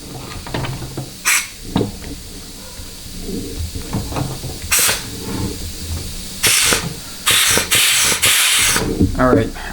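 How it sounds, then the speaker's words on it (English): Bursts of compressed air from a blow nozzle hiss in short blasts, some long and some clipped, close and loud, while a transmission pack from a 4L60E is cleaned out, with soft clatter between blasts. "all that air you're hearing is just my nozzle"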